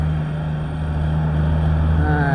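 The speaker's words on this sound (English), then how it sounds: "Very loud. There's a grass cutter." A grass-cutting tractor drives past close by with a loud, steady low engine drone and a rising mechanical whine toward the end.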